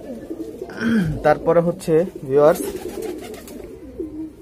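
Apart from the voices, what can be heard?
pigeons cooing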